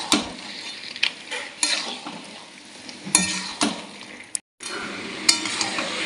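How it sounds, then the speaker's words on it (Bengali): Chicken pieces being stirred with spices in hot oil, a steady sizzle and frying hiss broken by repeated scrapes and clinks of a metal spoon against the pan, close up and with no talking. "মশলার সাথে মাংসটা খুব ভালো করে কষিয়ে নিই"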